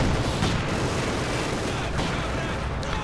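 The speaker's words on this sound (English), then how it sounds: "Guards infantry under heavy machine gun fire" Heavy machine gun and mortar fire from a World War II strategy game battle, a dense, continuous roar of gunfire and blasts with no clear gaps, and faint voices buried in the din.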